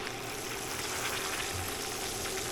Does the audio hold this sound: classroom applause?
no